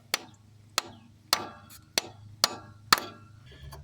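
Hammer blows strike a wood block to free seized cylinders in the rusty engine of a 1962 Fiat 600D barn find, six sharp, evenly spaced knocks ringing out close and loud with no talking.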